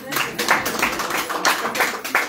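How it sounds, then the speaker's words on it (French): An audience claps at an event around a marriage proposal, a close, steady patter of hand claps lasting a couple of seconds with brief dips in intensity. "S'il vous plaît, un dernier applaudissement."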